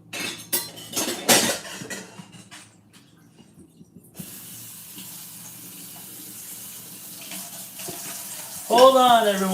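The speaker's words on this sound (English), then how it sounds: "Let me just go ahead and rinse everything off really quick." Running tap water splashes steadily into a sink, with clinks of dishes and brief noises at the start and a short squeaky sound near the end.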